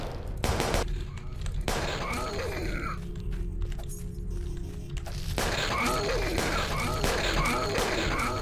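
Dense gunfire from firearms added to the dungeon crawler Delver by a mod, with rapid repeated shots and crashes in two loud bursts separated by a quieter stretch.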